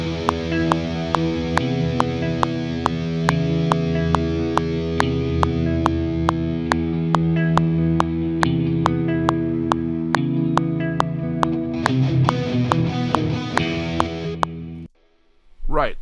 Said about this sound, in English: So I'm going to record that on the other rhythm guitar track as well